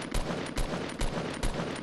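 Gunfire from a Fortnite Battle Royale match aimed at knocking down a structure, heard as four sharp, evenly spaced loud shots roughly every 0.4 seconds over a dense steady background din, with no talk.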